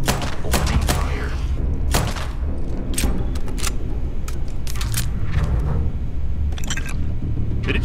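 Bursts of gunfire in the video game Starfield crack out repeatedly over a dense, rumbling low-frequency game soundscape, with sharp shots scattered irregularly throughout.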